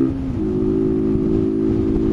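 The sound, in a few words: motorcycle riding recorded with wired external microphone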